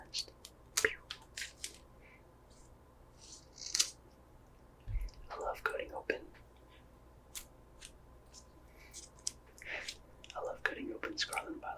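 Quiet crisp snips and crinkles of scissors cutting open rigid Pokémon Scarlet and Violet booster pack wrappers, close and soft, scattered in short bursts amid faint handling rustle.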